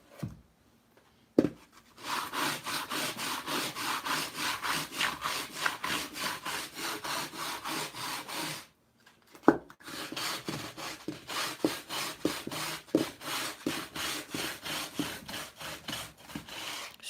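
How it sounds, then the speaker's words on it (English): Steady rhythmic rasping of a sander working back and forth over wood, running close and continuous for about seven seconds, a brief pause, then resuming with the same even strokes. "I do have an electric sander."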